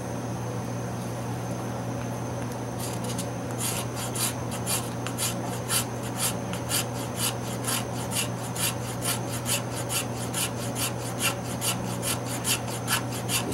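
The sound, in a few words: carbide scraper shaving fatwood for fire starting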